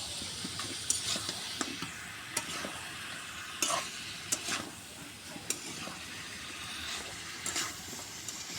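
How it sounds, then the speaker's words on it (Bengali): Potatoes and meat are stirred and fried together in a pan, with a steady sizzle broken by frequent sharp scrapes and clicks of the spoon against the metal. "আলু দিয়েও কষে নিই।"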